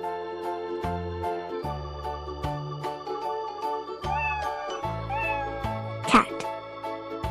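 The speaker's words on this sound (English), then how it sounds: "Cat." A cat meows within a children's animal-sounds quiz game, a short meow rising near the end over bouncy background music with clear melodic notes.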